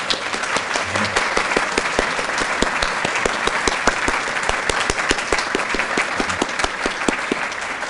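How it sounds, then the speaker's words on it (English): Sustained, dense applause from an audience at a talk, recognising the event organisers, loud and even throughout with individual claps popping through the crowd's steady roar. "I think we want to recognize you with a round of applause for all of your work."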